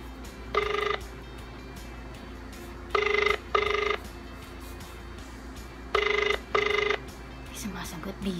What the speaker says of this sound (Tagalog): Tawagan natin si Sunshine. Tignan natin kung sasagot